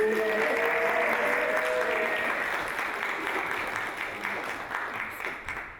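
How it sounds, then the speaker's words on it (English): Theater audience applauding before an evening stage production, a dense steady round of clapping that holds strong and then gradually thins and fades out, with a few faint voices underneath. "you for the applause."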